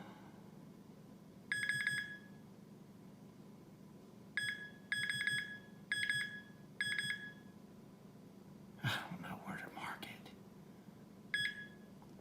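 Short electronic beeps from a metal detector pinpointer tested on coins, sounding in separate bursts, some doubled, with a quiet voice murmuring in between against a low background hum.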